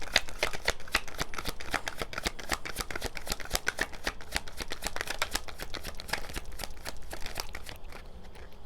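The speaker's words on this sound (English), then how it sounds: "I'm just going to pull a couple cards here" Tarot cards being shuffled by hand: a steady, rapid stream of crisp riffling and flicking card sounds, close and continuous for several seconds with no voice.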